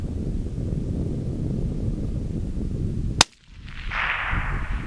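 A single sharp rifle crack from a long-range rifle fired prone at a 945-yard target, loud and close, sounding over steady outdoor wind noise, followed by a brief muffled pause and a faint distant ring.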